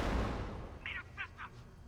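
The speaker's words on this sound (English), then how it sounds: "That explosion wasn't me." A deep explosion booms at the start in the Beneath video game, its rumble fading over a second, followed by a few short, sharp crackling bursts at moderate volume.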